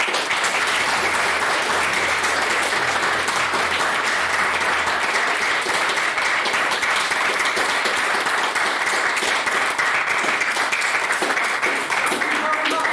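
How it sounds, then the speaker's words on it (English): An audience at a debate on the Arab Spring claps for a main speech: dense, sustained applause that holds steady and loud for the whole stretch without letting up. "Can we have another round of applause for what was Jonathan Hall's main speech?"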